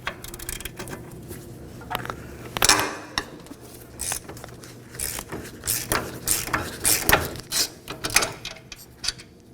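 A ratchet clicking fast in close, loud bursts as it backs a brake caliper mounting bolt out of a front wheel assembly on a 2013–2019 Nissan Sentra, metallic rattles between strokes and no talk.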